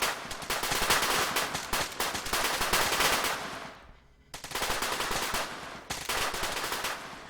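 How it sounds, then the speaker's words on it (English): An automatic grenade launcher (GMG) fires in the military video game Arma 3: a loud, continuous stream of rapid thudding shots, broken by one brief pause and a second short gap. "That's the GMG firing, by the way, if you guys are curious."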